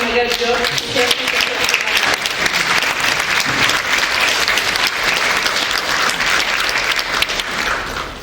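Loud, dense applause fills a ceremony hall as a special adviser to the First Lady is invited to speak, continuous clapping from many hands holding steady throughout.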